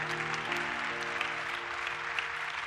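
Church congregation claps steadily for a few seconds, a dense, even patter of many hands over a sustained keyboard chord, with no talking.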